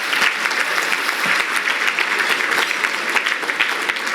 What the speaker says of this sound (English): So please give them all a round of applause.